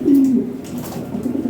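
A pair of Toy Lahori pigeons give a close, low, throaty coo that swells once and then trails off into softer murmuring.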